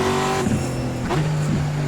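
A three-speed race truck in the iRacing sim racing game runs in top gear, its engine droning loud and close with a brief pitch dip and recovery, no talk over it.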